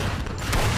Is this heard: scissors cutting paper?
no